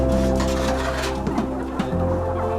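Chickens cluck on a poultry farm in Uganda, a dense, steady flock chorus with overlapping calls and a constant low hum beneath, loud and close throughout.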